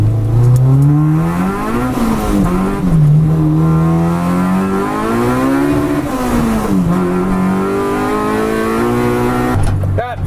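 A K20-swapped Honda EK Civic race car engine revs hard, its pitch climbing and falling through repeated high-rpm VTEC pulls, loud and close, with a brief pause near the end.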